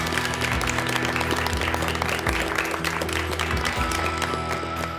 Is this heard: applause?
yes